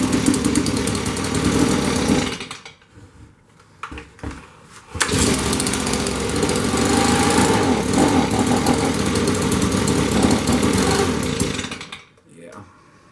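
A Stihl BG65 leaf blower engine on half choke runs loud and steady up close, with a brief drop in revs partway through before it picks back up and settles into a strong, continuous roar.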